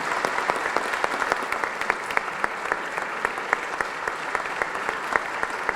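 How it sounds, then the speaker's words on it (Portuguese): A warm round of applause from an audience at an event honouring guests, with crisp individual claps standing out over a steady, fairly loud wash of clapping that continues throughout. "uma calorosa salva de palmas"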